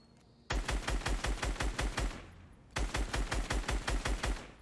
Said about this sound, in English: the fire rate for the scar is a little bit slower